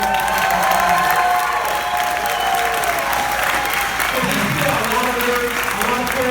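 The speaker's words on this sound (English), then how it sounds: "So you should give these guys one more round of applause." A festival audience at a film Q&A bursts into sustained, dense applause mixed with cheering, filling the room loudly and evenly from start to finish.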